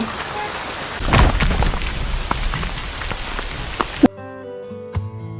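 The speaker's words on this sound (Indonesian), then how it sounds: "hujan deras mengguyur daerah itu" Heavy rain pours down steadily, with a few louder splashes, then cuts off abruptly into a quiet musical tone near the end.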